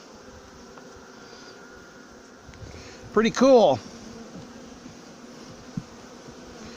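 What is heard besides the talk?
honeybees buzzing around a nuc hive frame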